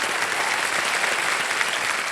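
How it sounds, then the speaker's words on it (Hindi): A studio audience on the Indian quiz show Kaun Banega Crorepati claps to welcome back a returning contestant, a sustained, even burst of many hands at a constant level, with no voices on top. "तालियों के साथ इनका जरा स्वागत हो गया।"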